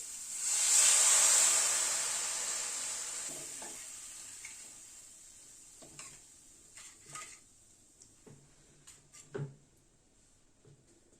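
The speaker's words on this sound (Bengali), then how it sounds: "এবার গরম জল দিয়ে দিচ্ছি।" Hot water hits frying spice masala in a pan, a loud bright sizzle and hiss burst at the start that fades over a few seconds into softer stirring clinks and scrapes.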